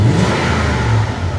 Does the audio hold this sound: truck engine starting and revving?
yes